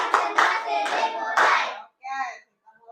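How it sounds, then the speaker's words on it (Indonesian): A class of schoolchildren claps a concentration rhythm, several sharp group claps in a patterned beat, followed by a short burst of young voices. "ayo sama-sama kita coba dulu tepuk konsentrasi"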